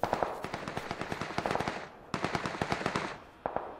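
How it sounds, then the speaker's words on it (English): Rapid bursts of automatic gunfire in the battle royale game PUBG, several rattling volleys separated by short gaps, sharp and fairly distant, with no talking over them. "I hear lots of gunshots."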